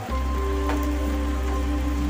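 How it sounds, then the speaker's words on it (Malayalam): Heavy rain falls steadily on garden plants, including a dense turtle vine, with a close, continuous hiss and patter that holds even throughout, no voices present. "നല്ല മഴ കേട്ടോ, നല്ല മഴ."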